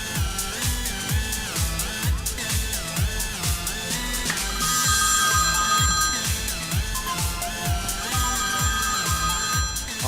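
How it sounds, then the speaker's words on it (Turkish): A mobile phone rings with a repeating electronic ringtone melody, loud and close, its rhythmic pattern cycling steadily for about ten seconds with no talking over it. "Ben nasıl açayım senin telefonunu şimdi burada"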